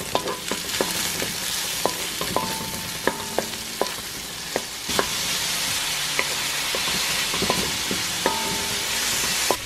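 Onions, garlic and tomato sizzle and fry in a wok, with a steady hiss broken by repeated clacks and scrapes of a utensil stirring, close and continuous.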